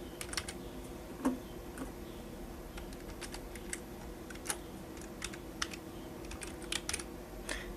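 Computer keyboard keys clicking in irregular bursts as a username and password are typed, close and fairly quiet, with no talking.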